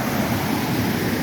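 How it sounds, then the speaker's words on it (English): Water rushes through a creek flooded after rain, a loud, continuous broadband roar with no pauses, mixed with some wind noise on the microphone. "Have a look at the creek here."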